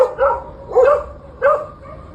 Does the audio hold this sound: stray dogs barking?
yes